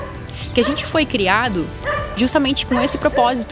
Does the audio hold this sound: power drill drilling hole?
no